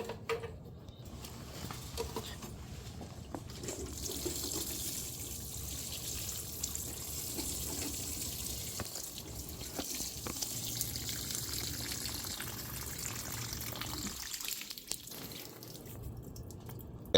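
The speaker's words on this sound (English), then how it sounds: "You gotta mix, because you don't want to have your fertilizer not mixed in well with the water." Fertilizer stirred into water for fig trees, a quiet continuous watery swishing and trickling with faint drips, close by, ending in a brief lull and a sharp knock.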